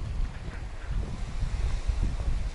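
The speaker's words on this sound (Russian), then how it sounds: "дует не сильный ветерок и слышен" Steady wash of sea waves with a light breeze buffeting the microphone on Cleopatra Beach in Alanya, a low continuous rumble with no voices.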